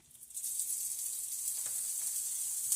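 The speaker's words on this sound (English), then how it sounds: "the pan's getting hot now, so I'm going to get the sausage in" Sausage sizzles steadily in a hot pan, a dense continuous crackling hiss that swells in at the start and holds close and loud throughout with no talking.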